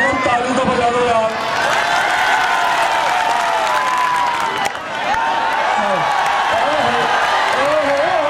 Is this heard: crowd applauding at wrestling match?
yes